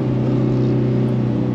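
Steady, loud drone of a Transit van engine held at high revs during a Nürburgring lap, continuous and close with no talk over it.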